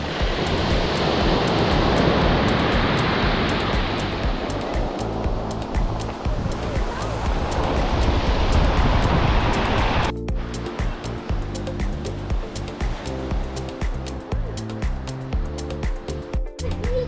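Ocean waves rolling onto a Costa Brava beach in Spain in January, a loud continuous roar of surf and wash that shifts partway through but never stops.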